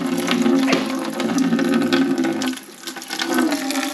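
Coolant gushes and splashes out of an Audi A6 C6 4.2 V8 BVJ engine during intake manifold removal, a loud close watery pouring that surges and briefly eases.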